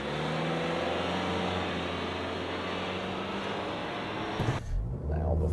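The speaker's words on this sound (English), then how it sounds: "how quick is it in reverse? So here we go, put that in reverse" A 2023 Nissan X-Trail in sport mode accelerating hard in reverse: a steady, loud whirring drive note that holds and slowly builds, then cuts off abruptly near the end, heard from inside the cabin.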